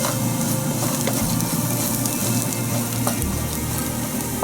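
Pine nuts and a pinch of allspice sizzle and crackle steadily in a hot pan for a Middle Eastern shish barak dish, close and lively with occasional stirring scrapes.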